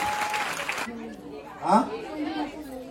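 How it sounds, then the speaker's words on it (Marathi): Audience applause for Raji at a Home Minister women's special game show fills the first moment in a dense clatter, then cuts off sharply, leaving someone talking over low crowd murmur. "जरा जोरदार टाळ्या झाला पाहिजे राजीसाठी"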